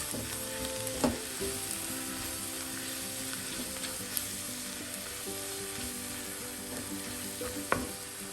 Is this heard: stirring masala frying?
yes